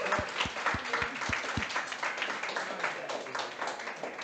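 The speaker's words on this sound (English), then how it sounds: "So give a round of applause to yourself" Audience applause, a soft wash of clapping with a few sharp near taps at the start, fairly quiet throughout.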